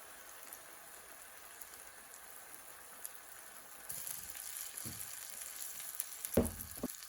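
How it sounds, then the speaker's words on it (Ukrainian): Chopped tomatoes are poured into a hot frying pan for a lazy lavash pizza, starting as a quiet sizzle, then swelling into a louder wet hiss with a couple of sharp splattering bursts near the end. "Висипаємо наші подрібнені помідори"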